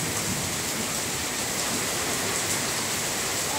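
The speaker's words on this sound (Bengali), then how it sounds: "অনেক বৃষ্টি সকালে।" Heavy morning rain on Eid day, a steady dense hiss of falling water that runs without a break, fairly close and even in loudness, with no voices.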